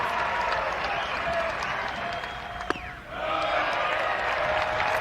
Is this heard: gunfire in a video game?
no